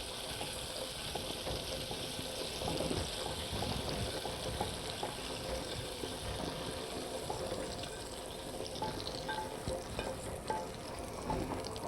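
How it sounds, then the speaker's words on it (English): Franks being stirred in sauce in a pan: faint continuous wet sizzling and soft scraping swirls of a spoon, steady and close with no talk. "we want to stir that all up to nicely coat those franks"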